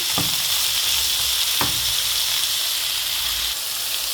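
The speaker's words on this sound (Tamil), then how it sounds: "உப்பும் மஞ்சள் தூளும் போட்டு வதங்கப்படுவோம் விடுவோம் நல்லா வதங்கட்டும்" Tomato rice masala with salt and turmeric sizzles loudly and steadily in a hot pan, a dense frying hiss broken by a couple of brief stirring knocks.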